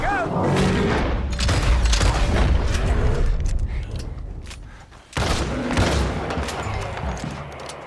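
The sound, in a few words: gunshots in Red Dead Redemption 2 video game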